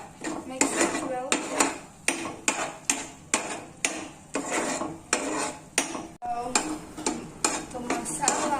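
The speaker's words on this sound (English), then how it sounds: "now you need to mix this, and this one should get a thick paste, and mix it well." A spoon stirs thick tomato and onion masala paste in a pan, making steady rhythmic scraping strokes about every half second. The strokes are close and fairly loud and keep a regular pace throughout.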